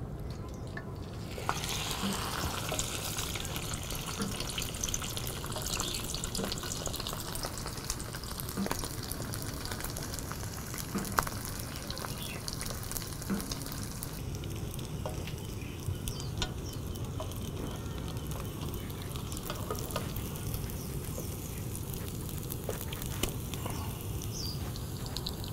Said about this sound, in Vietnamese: Bắt đầu lửa hợp lý rồi, tôi sẽ chiên nhé các bạn nhé.